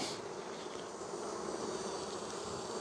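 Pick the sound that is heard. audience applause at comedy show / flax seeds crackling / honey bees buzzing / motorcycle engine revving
honey bees buzzing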